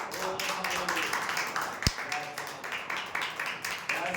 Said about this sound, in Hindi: ताली बजा के उनके नाम की तारीफ करें। ताली बजती रहे।